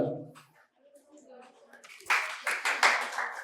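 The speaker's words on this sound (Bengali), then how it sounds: "জোরে হাততালি স্যারের জন্য" Audience applause bursts out for a quiz prize winner at a medical college and hospital event in Santiniketan, following a quiet stretch with faint voices, then loud, sustained clapping with several swelling peaks.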